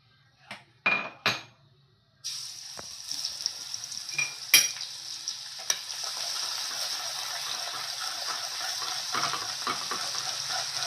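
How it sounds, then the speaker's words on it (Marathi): Garlic hits hot oil with a few clinks of a utensil on the pan, then a steady, close sizzle of frying continues with occasional stirring scrapes. "आता तेल गरम होऊया आता आपण लसूण ठेवू"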